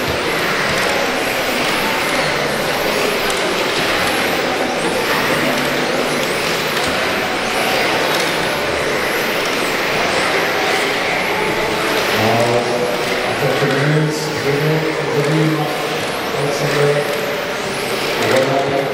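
A white race car driven by the world champion climbs the GP3F Longwy hill climb course, its loud engine droning steadily and continuously up close with no pauses.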